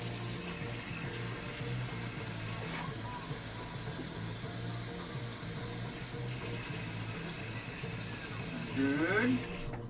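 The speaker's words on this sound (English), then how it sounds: "So let's add our water." Tap water runs steadily into a container for Nissin Demae instant soy sauce ramen, a soft continuous splash with a faint pitch shift near the end as it fills.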